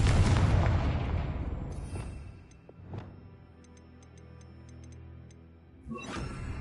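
Confringo fire spell blasting in the video game Hogwarts Legacy: a loud booming burst that decays, followed by a couple of smaller thuds and a final boom, with faint chiming effects between.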